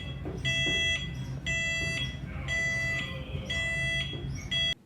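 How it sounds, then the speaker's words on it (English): An audible alarm on a ship's watertight door sounds as the door is closed remotely: a loud, repeated electronic beeping in regular bursts over a low mechanical rumble, with no talking. "the mandated audible alarm, since the door is being closed from a remote location"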